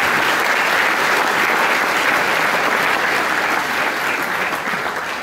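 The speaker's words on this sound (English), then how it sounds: "You may clap, please." Loud, dense clapping from parents and visitors at a school senior prize-giving ceremony, honouring top scholars; continuous close applause that holds steady and tapers slightly at the end.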